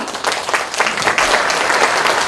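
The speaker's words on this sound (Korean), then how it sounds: "큰 박수로 맞아주십시오" An audience at a book launch celebration bursts into dense, steady applause as an essayist and professor is welcomed onto the stage, the clapping close and continuous throughout.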